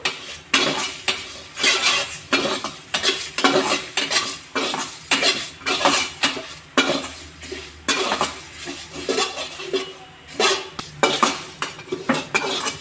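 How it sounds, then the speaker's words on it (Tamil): Masala spices dry-roasting in a pan, with a metal spoon scraping and clinking against the pan in a steady rhythm of close, loud strokes and a faint sizzle beneath. "இது நல்லா வறுத்துக்குங்க. வறுத்து நம்ம அரைக்க போகிறோம்."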